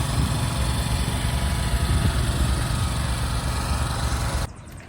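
A lawn mower runs at a steady, loud, close engine drone on an unstriped lawn, cutting off abruptly near the end, with no talking.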